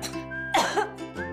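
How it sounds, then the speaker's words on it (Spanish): A cough in a cough syrup advertisement: a single close, loud cough burst with a throat-clearing quality, standing alone over a soft steady background. "¿Sale la tos, pero la flema no?"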